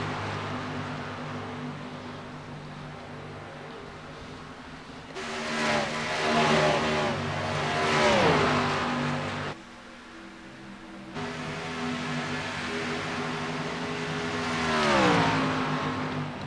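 Race cars in a K&N Series racing video game at Charlotte drone on steadily, with engine pitch rising and falling through shifts and passes, loud and continuous without talk.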